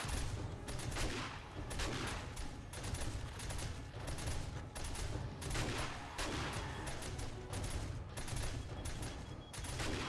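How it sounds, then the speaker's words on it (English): Dense, continuous automatic SMG turret fire pours out during a late-game horde night in 7 Days to Die, rapid bursts overlapping steadily for the whole stretch with no talking. "Sounds like the SMGs may be out again already."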